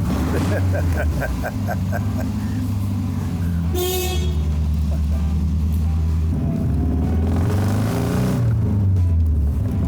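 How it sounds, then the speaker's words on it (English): A car engine with a split exhaust manifold rumbles loudly throughout with a deep, throaty exhaust note and a brief rev partway through, recorded close. "that little split manifold sounds good"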